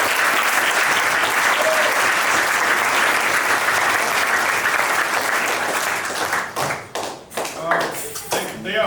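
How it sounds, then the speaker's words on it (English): A crowd claps for volunteer youth sports coaches at a media day, with steady dense applause that thins into scattered claps near the end as voices start talking. "will y'all give them a round of applause?"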